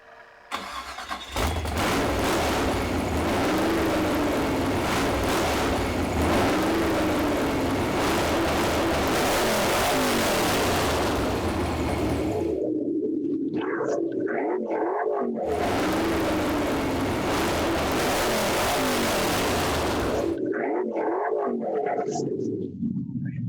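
A 350 car engine, fed squirted gas, cranks and catches, then roars through loud sustained revs with pitch swings, cutting briefly to near silence before revving again.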